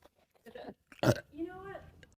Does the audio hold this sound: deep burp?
yes